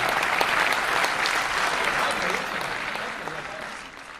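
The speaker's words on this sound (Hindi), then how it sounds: "एक बार जोरदार तालियों के साथ इकबाल भाई का स्वागत करें।" An audience at a Dubai mushaira applauds to welcome the Urdu poet Iqbal Ashar, a steady wash of clapping that gradually softens over a few seconds.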